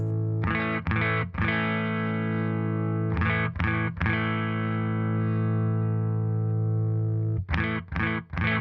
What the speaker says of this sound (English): now I can hear the compressor